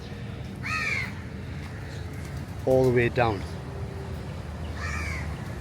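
Crows cawing outdoors in Georgetown, a few harsh calls spaced apart, with someone talking and steady background noise.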